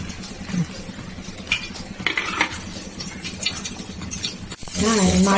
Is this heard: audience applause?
no